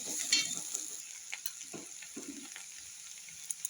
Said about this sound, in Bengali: এরপর আবার নাড়াচাড়া করে নিতে হবে, ডিমটা যেন ভালোভাবে ভাজা যায়